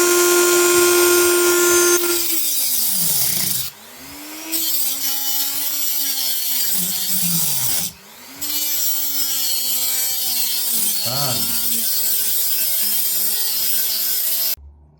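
Dremel rotary tool cutting through an old bathroom shelf bracket, a loud, close, high-pitched whine that dips in pitch as it bites into the metal, briefly stops twice, then resumes with no talking.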